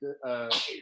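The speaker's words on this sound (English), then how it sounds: "My son is sneezing off camera" A child sneezes off camera in a home, a single close, sharp sneeze with a voiced wind-up and a breathy burst at the end.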